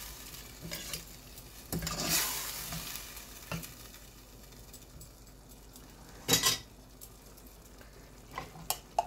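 Stirring beef chettinad with a ground cashew mixture in a pan, with soft scraping and faint sizzling, a louder burst of stirring near the start and another past the middle, plus light utensil clinks toward the end.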